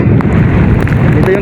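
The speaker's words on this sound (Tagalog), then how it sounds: "Grabe yung lakas ng hangin." Strong super typhoon winds roar across a highway in San Roque, Northern Samar, a loud, steady rushing blast close to the microphone with a voice briefly talking over it.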